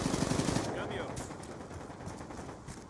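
Gunfire in the Black Ops 2 multiplayer game: a rapid burst of shots at the start, fading into a rumbling, noisy background, with a player speaking Spanish over it.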